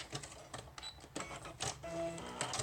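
A sewing machine stitches down the edges of layered paper for a handmade junk journal, giving brief mechanical rattling bursts and a short motor whine, close and moderately quiet.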